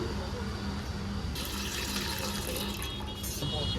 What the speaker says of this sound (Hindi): एक परात ले लीजिए, उसमें ऐड करेंगे हम पानी